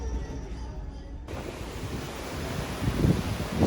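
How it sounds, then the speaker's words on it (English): Sea water rushing past the hull of a Disney cruise ship, a steady broad wash of surf with wind noise that swells slightly toward the end. "It's just so pretty to see the sea moving by."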